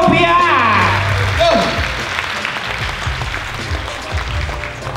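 Applause rises at an Indonesian stage event honoring a couple, a loud crowd clapping that starts under an emcee's amplified voice and continues as a steady wash after he stops.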